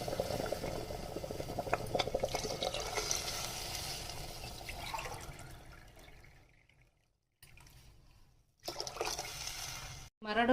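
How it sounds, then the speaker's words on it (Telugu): Water heating in a pot for wheat rava upma, a steady bubbling hiss that gradually fades, with brief clattery handling noises near the end. "మరగడం స్టార్ట్ అయ్యిందండి."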